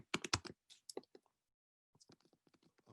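Computer keyboard keys tapped while typing code, a quick close cluster of clicks, a pause, then a softer run of keystrokes.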